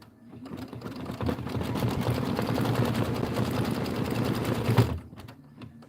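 A sewing machine stitches a berry fill pattern on a quilt, running in a steady rapid needle patter for about four seconds before stopping abruptly.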